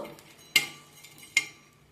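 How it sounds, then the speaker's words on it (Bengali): Half a spoon each of cumin and coriander toasting in a pan for a home-style chicken dish, a soft sizzle broken by two sharp metallic clinks of a spoon against the pan. "হাফ চামচ জিরে হাফ চামচ ধনে এবার আমি একসাথে সুন্দর গন্ধ বেরোনো পর্যন্ত একটু ভেজে নেব"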